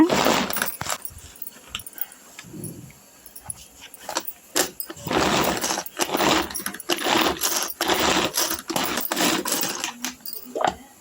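Onions and green chillies chopped in a kitchen chopper, heard as bursts of rapid clattering and whirring close by, repeated in several short runs with brief pauses between them.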